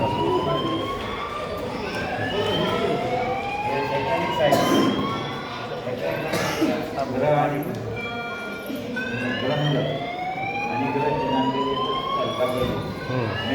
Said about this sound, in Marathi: अशा पद्धतीने आग लागल्यानंतर ते सुरू होऊन जाते आणि अशा टाईपचा हा बझर वाजतो.